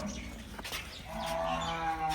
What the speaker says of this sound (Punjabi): ਆਓ ਭਾਈ ਖੋਲੋ ਪਹਿਲੇ ਨੰਬਰ ਵਾਲੀ ਗਾਂ।